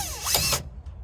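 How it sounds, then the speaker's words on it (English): A power drill whirs briefly, for about half a second, as it backs screws out of a gauge on a 1972 Ford F100 truck. Quiet background follows, with no talk. "what I'm doing right now is stripping a screw out"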